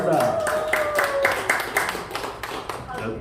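An audience claps to welcome a singer at a performance in an elderly care center, with quick rhythmic clapping that builds and fades over a few seconds, heard together with the host's voice.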